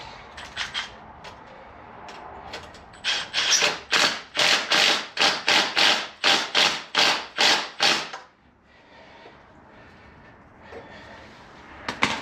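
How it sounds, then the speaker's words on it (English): An electric impact wrench tightens the exhaust crush clamp on a 2025 Kawasaki KLX300 pipe install, firing a loud, close run of about a dozen sharp rattling bursts in quick rhythm, with quieter shop sounds before and after. "On the crush clamp, I'm going to use the electric impact."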